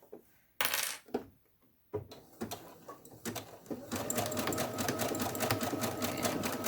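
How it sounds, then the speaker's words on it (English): Sewing machine running a zigzag stitch on a fabric face mask, starting with a few short bursts and clicks, then stitching steadily and loudly up close with no talking. "So I am going to switch to a zigzag stitch."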